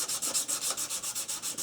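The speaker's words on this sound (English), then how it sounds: "So I'll just keep sanding until I'm satisfied with how smooth the piece is." Rhythmic back-and-forth strokes of 180 grit sandpaper on an aluminum motorcycle part, a close, even scratchy rasp repeating about eight times a second with no voices.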